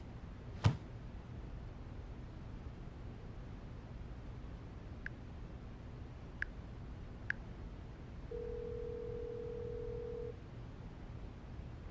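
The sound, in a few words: telephone dialing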